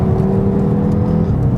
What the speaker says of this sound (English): it's the engine that really dominates the driving experience